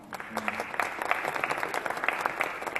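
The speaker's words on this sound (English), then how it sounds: "Round of applause for Connor." A round of audience applause at a conference keynote, many hands clapping in a dense, lively patter that stays steady and moderately loud throughout, without voices over it.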